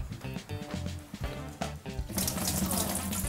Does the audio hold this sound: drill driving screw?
no